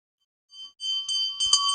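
A small hand bell rung during a Hindu incense offering to a guru, bright metallic ringing that starts softly then grows into steady, rapid clanging strokes, close and clear with no speech.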